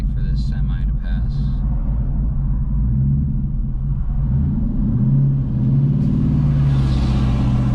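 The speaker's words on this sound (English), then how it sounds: "Wait for this semi to pass." A semi truck passes on the road beside an idling 2013 Ford Mustang BOSS 302 Laguna Seca Edition, making a loud, steady low rumble that swells near the end, with no talk over it.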